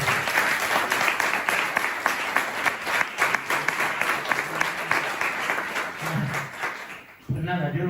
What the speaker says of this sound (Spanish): Darle un aplauso que más